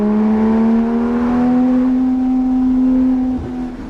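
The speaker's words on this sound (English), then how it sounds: "no side mufflers, no center muffler, so it's deleted. So it sounds quite a bit different than a stock GT3." A loud, close Porsche 991.1 GT3 RS engine with side and center mufflers deleted, strong droning tone, holding steady then easing off near the end, raw and unmuffled.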